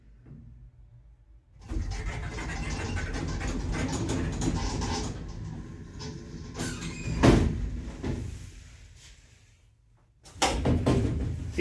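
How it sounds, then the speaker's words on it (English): Becker lift doors at a Poundland shop closing with a mechanical rumble and sliding clatter, followed by a thud, fading motor hum and another burst of machinery at the end. "Wait for the doors to close."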